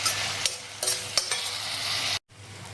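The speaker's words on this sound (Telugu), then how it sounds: "సో దీంట్లో అల్లం వెల్లుల్లి పేస్ట్ కూడా వేస్తున్నాను, వాసన పోయేంత వేయించుకుందాం." Ginger garlic paste fries in a pan for a water apple curry, a steady broadband sizzle with a few sharp spoon scrapes and stirs, cutting out briefly near the end before resuming more quietly.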